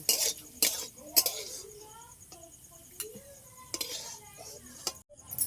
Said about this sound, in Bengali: আমি কাজু কিশমিশটা তুলে নেব।